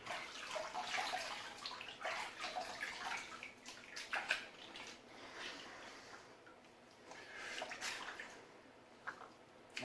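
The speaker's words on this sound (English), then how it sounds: "I'm gonna rinse off." Water runs from a tap while a cheap shaving brush is rinsed under it, faint splashing and gurgling surging unevenly, quiet and close, with no voices.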